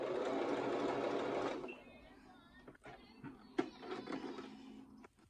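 A sewing machine stitches the end of a buttonhole in thin fabric with a faint, rapid whirring that stops partway through. A few soft clicks and handling sounds follow.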